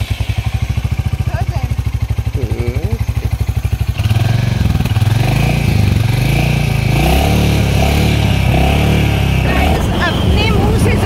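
A new Royal Enfield Bullet motorcycle engine running, a steady thumping idle that grows louder and fuller partway through, with people talking over it.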